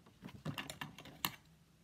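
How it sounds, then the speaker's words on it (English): Scissors snip through two layers of paper, giving a quick series of crisp, close clicks and crunches in an uneven rhythm with one sharper cut near the end, all at low level with no talking. "I'm going to use my scissors and I'm just going to cut down here."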